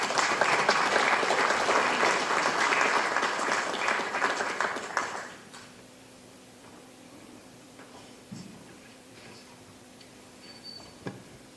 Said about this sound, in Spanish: a quien también lo recibimos con un fuerte aplauso